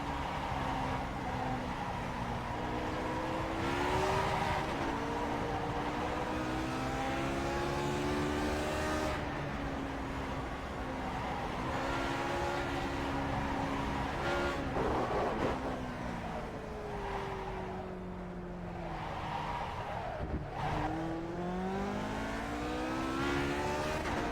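A Lotus 49 racing car in the iRacing simulator at Mosport, its engine note climbing and dropping repeatedly through gear changes and corners, a steady, moderately loud in-car drone with no talk over it.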